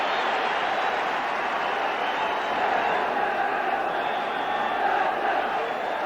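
A large football stadium crowd at a Dundee United versus Dundee derby in 1981 roars in a steady, dense wall of noise with swelling shouts and chants, while a commentator speaks over it.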